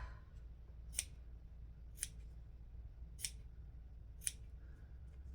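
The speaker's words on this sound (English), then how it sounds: "you want to take some scissors and we're just going to cut out triangles" Scissors snip out triangles for a sewing project, making four faint, crisp cuts spaced about a second apart over a quiet background.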